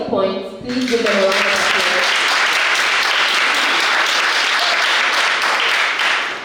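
A crowd at a junior science and maths quiz breaks into loud, sustained applause for the contestants, rising quickly after a spoken voice at the start and continuing dense and even.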